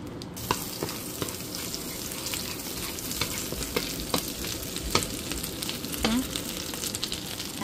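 Chicken pieces fry in butter in a home kitchen, a steady close crackling sizzle punctuated by sharper spits and occasional stirring clicks, continuing without pause and with no talking.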